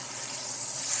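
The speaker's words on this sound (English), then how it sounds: "You can flip it a couple times during this sear." A sous vide ribeye sears in a hot pan, giving a steady, bright sizzle that holds even and close for a brief moment with no talking.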